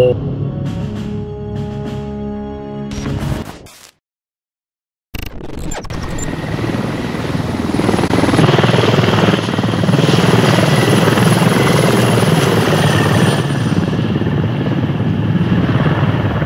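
A helicopter in the Squad video game, a loud, steady rotor and engine roar that starts after a short cut to silence and then holds constant and close for the rest, with no talking.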